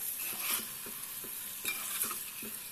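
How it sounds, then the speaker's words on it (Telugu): Fish pieces with turmeric frying in a pan, giving a soft sizzle with a series of evenly spaced spatula strokes, close and fairly quiet. "వేసి ఇలాగే కలుపుతూ ఫ్రై చేసుకోవాలి"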